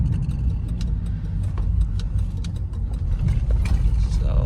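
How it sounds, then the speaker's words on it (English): A Ford Crown Victoria with paddle shifters drops into first gear. The engine drones steadily and loudly from inside the cabin, with faint ticking over the rumble. "Downshift into first."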